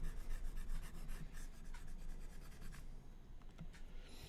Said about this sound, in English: let me erase that